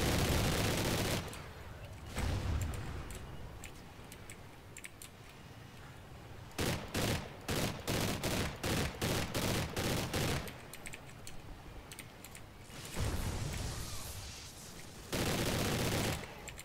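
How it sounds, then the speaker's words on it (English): Vepr rifle in a video game firing in fast bursts, a rapid string of sharp loud shots around the middle between quieter stretches of gunfire and game noise. "I just like the Vepr, just because of its fire rate."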